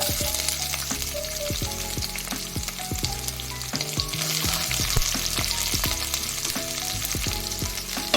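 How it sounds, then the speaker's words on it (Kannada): Onion and capsicum roasting in a hot pan for Gobi Manchurian, a steady close sizzle with clinking and scraping as the pieces are stirred, continuous throughout. "ಈಗ ಆನಿಯನ್ ಮತ್ತೆ ಕ್ಯಾಪ್ಸಿಕಮ್ ಹಾಕೊಂಡು ರೋಸ್ಟ್ ಮಾಡ್ಕೊಳ್ಳೋಣ"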